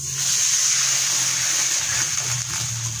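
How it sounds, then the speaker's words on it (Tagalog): Water poured into a hot pan of cooking squid and onion with soy sauce sets off a steady, loud sizzling hiss that holds throughout. "Sibuyas, tapos mag-add na tayo kagad ng water."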